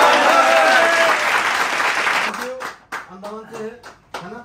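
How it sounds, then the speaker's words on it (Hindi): An audience at a Teachers Day gathering in Kolkata claps loudly and steadily, with a brief whistle early on, then the clapping stops and someone speaks in short phrases. "अब हमारा थोड़ा तालियां जोर से।"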